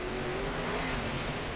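NHRA Pro Mod drag race cars, including a Chevy Camaro, roar at Englishtown with their engines going on and off the throttle, a dense continuous rumble.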